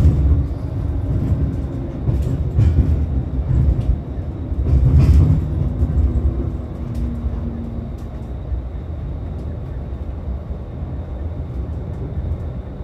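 Two Bombardier Flexi-D light rail cars, numbers 2003 and 2025, of the ETS LRT Valley Line in Edmonton roll past northbound with a steady, loud rumble and wheel noise that swells midway and then holds as a broad, continuous roar.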